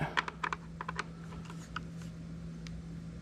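A few quick, close clicks from a tool snugging down the air filter cover screw on a 2021 Yamaha MT-03 motorcycle, then a quieter stretch over a low steady hum, no one talking.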